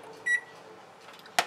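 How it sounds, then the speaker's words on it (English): An oven beeps while being set to preheat for baking: a short electronic beep early on, followed later by a sharp click or tap, in a quiet kitchen. "Let's preheat the oven to"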